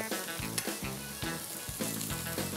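Bread cubes fry in a pan with a constant crackling sizzle, punctuated by a few rhythmic scraping stirs and clinks.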